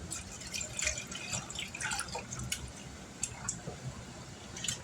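Liquid splashing and dripping into a crockpot for ham and potato soup, a soft wet trickle with small drips and squishes, fairly quiet and close.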